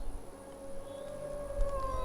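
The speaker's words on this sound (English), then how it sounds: "You'll hear me howl as the men approach." A drawn-out howl signal from an ally in Assassin's Creed Valhalla, a steady wavering tone held for about two seconds over a low ambient game rumble.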